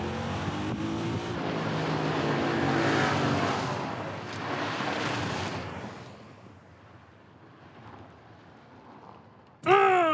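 Cars launching hard off the line at a drag race, including a Maserati, a Porsche Cayenne and a BMW M5, with a loud broad engine roar that swells and fades, then a sharp burst of high-pitched whine near the end.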